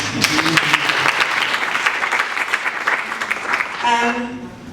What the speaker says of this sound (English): You deserve a bigger round of applause than that.